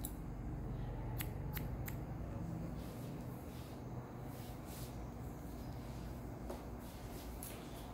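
Scissors cut curly hair in a series of close, sharp snips, several quick cuts and then a few more spaced out over a low background hum, with no talking.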